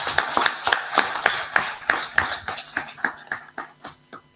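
An audience clapping for the winners of the 2025 AFEA Undergraduate Economics Challenge at an award ceremony, a steady run of fairly loud hand claps that thins and fades toward the end.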